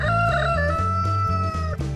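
Chickens in a yard with feed-dispensing enrichment toys make loud, close, drawn-out tonal calls like crowing, with some clucking.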